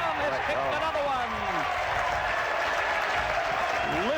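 A large Central football crowd at an Australian rules match roars and applauds continuously, loud and dense, with a commentator talking over the noise.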